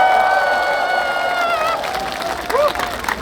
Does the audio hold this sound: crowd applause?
yes